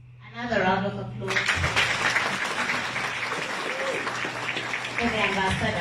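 Audience applause for an ambassador at a formal gathering, a sustained dense wash of clapping that swells in after a brief spoken phrase and carries on steadily to the end, with voices briefly heard near the start and close.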